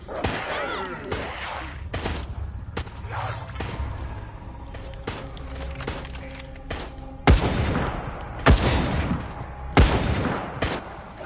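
Repeated gunfire from the video game Resident Evil Resistance, with dense bursts and sharp loud single shots ringing out near and alone, with no voices over them.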